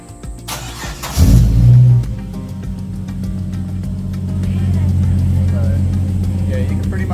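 A Holden VX Commodore engine runs in an engine bay, giving one sharp blip of revs early on, then settling into a steady idle that grows slightly louder and rougher, with talking faintly heard over it.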